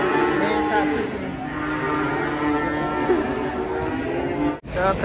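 A sacrificial cow gives long, loud, close moos that fill the air, with people talking and shouting around it outdoors.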